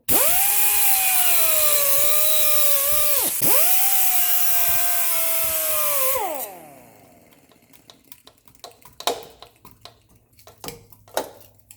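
An angle grinder cuts into the rear brake hardware of a 2007 Subaru Forester, a loud sustained high whine with a brief dip midway before spinning down, followed by scattered clanks and knocks of tools.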